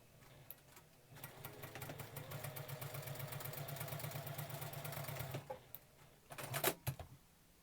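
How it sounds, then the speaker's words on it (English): A sewing machine stitching quilt blocks with a low bobbin gives a fast even run of mechanical clatter for several seconds, quiet and close. It stops, then a few louder knocks and clunks follow. "I've noticed that when my bobbin is low, I can hear a little more clanking."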